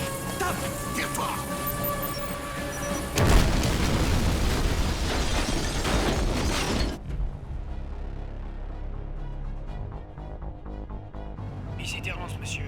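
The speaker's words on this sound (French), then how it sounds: "j'ai entendu une explosion" A loud explosion in an action film blasts in abruptly, a broad crashing burst that rumbles on for a few seconds before dropping away to lower debris and background noise.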